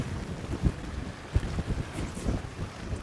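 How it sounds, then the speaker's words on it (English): Gusty wind buffets the microphone outdoors on a lake while walleye fishing, with low rumbling bursts and irregular thumps over a steady roar. "Dude, it is windy."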